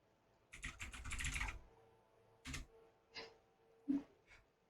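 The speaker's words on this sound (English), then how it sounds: "You hear what letters he's typing? Yeah, I can hear it." Fast bursts of keystrokes clatter on a computer keyboard, a dense flurry followed by a few separate taps and presses, close and fairly quiet with no talk.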